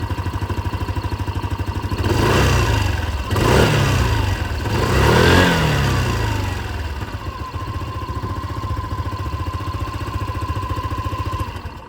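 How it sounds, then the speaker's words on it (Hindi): A Hero Xoom 160 scooter engine idles steadily, then revs three times in quick succession, each rise and fall clear and close, before settling back to a smooth idle. "अब आप लोग जूम की आवाज़ भी सुन लीजिए।"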